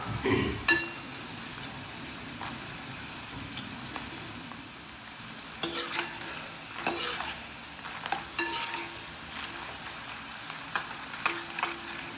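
A mint-flavoured snack fries in hot oil, with a constant close sizzle and repeated clinks and scrapes of a ladle stirring against the pan.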